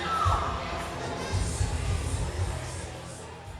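A wrestling arena crowd cheers for Muggsy, a broad steady roar of many voices with scattered shouts, holding at moderate level throughout with no distinct talk over it.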